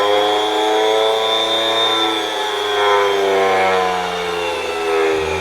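A small electric motor runs a test on a mini dynamometer powered by a 2S battery, holding a steady, loud tonal whine that dips slightly near the end.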